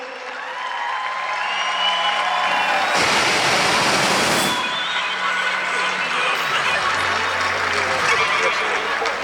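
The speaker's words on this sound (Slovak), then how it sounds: "Velký potlesk" A large outdoor crowd applauds and cheers in a steady sustained wash of clapping at a street racing event's award ceremony in Ostrava.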